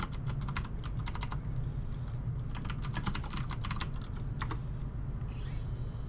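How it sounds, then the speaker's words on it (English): Typing on a computer keyboard, with quick bursts of close, crisp key clicks separated by short pauses over a low background hum, and nobody speaking. "So I'll type that in real quick."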